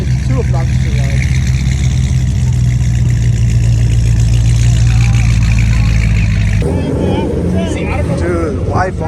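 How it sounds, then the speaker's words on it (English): Cold start of a catless Dodge Challenger Hellcat Redeye, a deep loud rumbling engine drone with steady low throb that shifts to a rougher, choppier idle near the end, heard up close. "Here's my cold start."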